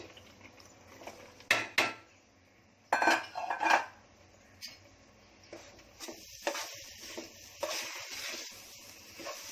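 Rice and semolina are roasted in a pan for methi-coconut laddus while a metal spoon scrapes and clinks against the pan in irregular strokes. The stirring is quiet and close, with pauses between strokes and no talking.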